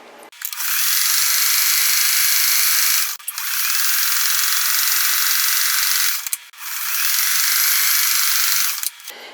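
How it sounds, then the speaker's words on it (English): A sewing machine stitches the corner of a raw-edge crazy quilt block with curves, running in three sustained, close whirring bursts separated by brief pauses, with no talking. "Now I'm going to sew this corner."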